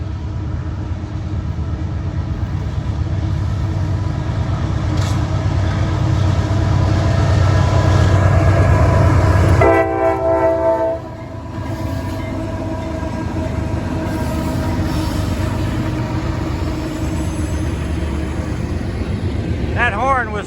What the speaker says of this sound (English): Norfolk Southern stack train coming across the bridge from Ohio